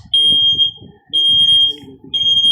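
A smoke alarm goes off during a smoke test, giving three loud, piercing high beeps in a steady rhythm over a quieter, lower voice-like sound underneath.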